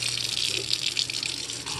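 Water pours steadily into plant pots, a continuous close splashing rush that sounds much like a running tap, with no talking.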